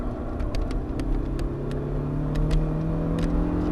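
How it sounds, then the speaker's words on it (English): A reasonably priced car's engine on a race track revs hard and climbs steadily under full throttle, with a loud, close droning rumble and rising engine tones alone throughout. "Go back on the gas now."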